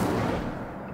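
An Incendio fire spell in Hogwarts Legacy erupts as a dense, rumbling burst of flame that fades over a second, loud and close with no talk.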